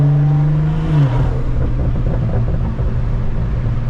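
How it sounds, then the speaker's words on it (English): Tuned 600 hp BMW M340i with a dirty intake, pulled hard at night from inside the car: a loud, close intake roar and engine drone rising in pitch, then a steady deep growl. "Damn, that intake sounds just, and it's dirty, bro"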